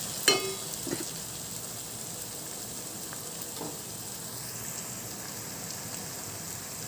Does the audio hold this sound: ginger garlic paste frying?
yes